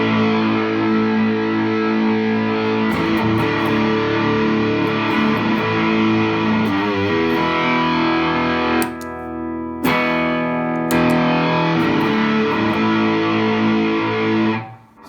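Electric guitar driven through a Mosky Black Rat distortion pedal, a loud, sustained saturated tone with chords ringing over each other, two brief gaps where the strings are muted before playing resumes.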